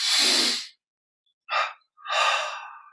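Deep breaths during a guided meditation: a long forceful exhale, a pause, then a short sharp inhale and a longer airy exhale, close and clear with no talking.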